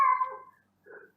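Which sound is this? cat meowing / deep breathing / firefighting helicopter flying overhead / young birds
cat meowing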